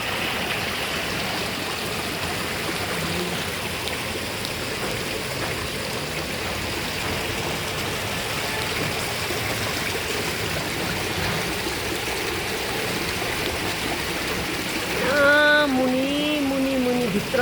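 Water trickles steadily from a crevice in the rock beneath a slippery hillside, a continuous close splashing and gurgling that fills the whole stretch, with a brief tonal voice-like sound near the end.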